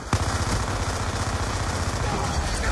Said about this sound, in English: I heard the shots fired.